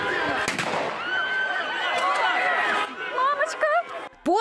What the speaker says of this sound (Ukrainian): Постріли, сигнали і крики людей.